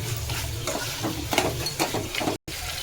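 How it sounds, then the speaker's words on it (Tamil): Mutton fries in oil in a pan, with a continuous crackling sizzle and occasional stirring scrapes, close and moderately loud, briefly cut to silence near the end. "சிக்கன் வறுக்கிற மாதிரி வறுத்துக்கலாம்"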